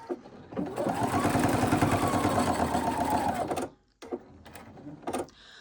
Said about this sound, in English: I'm going to sew down this side seam again with a 1/4 inch seam allowance.